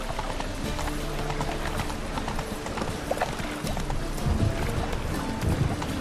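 Horse hooves clip-clopping during riding in the video game The Witcher 3, a steady rhythmic galloping close by with game ambience underneath.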